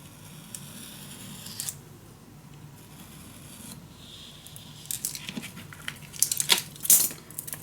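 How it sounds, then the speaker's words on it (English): Scissors snip through patterned craft paper for a travel suitcase project, a few quiet cuts early on followed by sharper, louder clicks and rustles near the end, with no one talking. "the curves, I am going to do that with my scissors"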